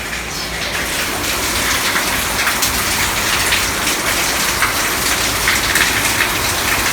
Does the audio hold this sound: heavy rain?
yes